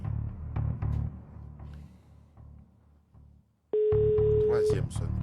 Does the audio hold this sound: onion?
no